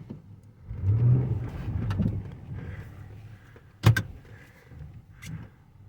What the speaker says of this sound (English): let's show the wheels spinning. Put it in reverse.